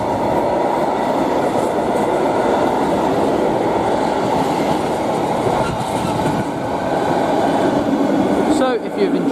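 Trains on the Great Western Main Line at West Ealing heading to Heathrow Terminal 5, a sustained loud rumble and rolling clatter of passing carriages, with a brief squeal near the end.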